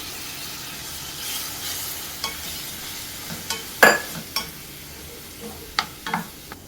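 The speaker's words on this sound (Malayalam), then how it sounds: "ഇതിലേക്ക് നമുക്ക് തക്കാളിയും മല്ലിയിലയുടെ തണ്ടും കൂടെ അരച്ചത് ചേർത്ത് നല്ലതുപോലെ വഴറ്റിയെടുക്കാം." Onion sautéed with a ground paste of tomato and coriander stems for brinjal masala, a soft sizzle in the pan broken by scattered clicks and scrapes of a spoon stirring, close by, with no talk.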